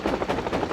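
A helicopter's rotor chops in a fast, steady pulsing beat, moderately loud and alone, heard during a chase in an animated Spirou adventure.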